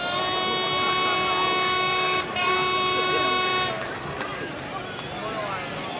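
A loud sustained vehicle horn blares for several seconds with a brief break, then fades into a busy, noisy street background in Vietnam.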